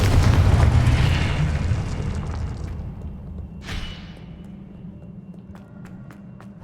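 Explosive spells cast in Hogwarts Legacy gameplay: a deep booming blast that rumbles and decays, followed by a sharper burst and scattered crackling pops as the noise fades.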